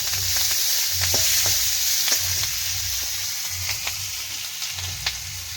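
Whole garlic, capsicum, cumin and green chili fry in hot oil with a steady close sizzle, broken by irregular clicks and scrapes of stirring; no voices.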